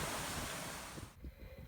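Steady wind and breaking waves rush around a sailboat at sea running under a reefed mainsail and half-furled genoa near Hurricane Julia. The broadband roar is loud and close at first, then drops slightly after about a second, with uneven sloshing underneath.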